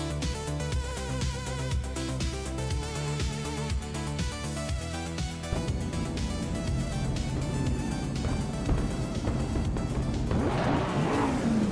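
Race cars in a racing video game at the Berlin E-Prix, a Ferrari and a Lamborghini among them, rev their engines hard and pull away. A continuous, loud, buzzing engine roar builds toward the end with a rushing surge.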